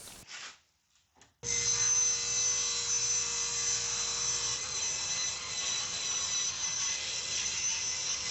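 A power saw spins up and cuts steadily through wood for stair nosing after a brief quiet start, a loud high whine that continues to the end, with no talking.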